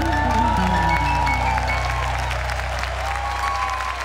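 An audience applauds steadily at a live religious show during a camp gathering, sustained clapping from a crowd that thins slightly toward the end.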